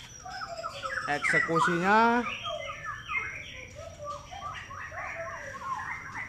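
Cucak rowo (straw-headed bulbuls) sing loud, rich, warbling phrases near the start, then continue more softly in fluttering bursts while someone speaks over them.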